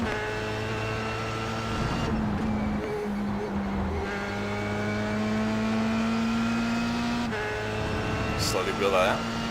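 Formula 3 race car at Donington Park accelerating at full throttle, a steady rising engine drone heard from onboard, fairly loud and continuous, with a brief gear-change dip.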